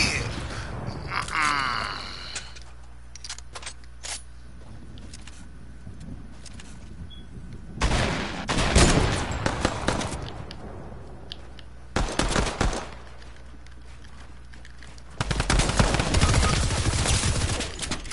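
Gunfire in a PS4 video game comes in several loud rapid bursts of fusillade between quieter stretches of a low background hum, with no voices.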